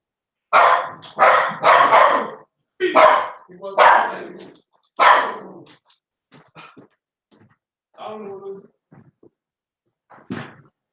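A dog barks and growls in bursts, several loud close barks in quick succession followed by quieter scattered growls and yelps.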